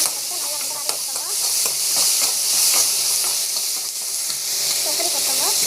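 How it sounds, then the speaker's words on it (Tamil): Tomatoes sauté in a pan with a steady, close sizzle and frying hiss, with occasional scrapes of stirring throughout. "டமாட்டோ போட்டு நல்லா வந்து வதங்கிட்டு"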